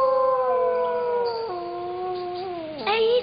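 Several cartoon wild dogs howl together in long, wavering, overlapping cries that slide downward, loud and close, with a brief sharper yelp at the end.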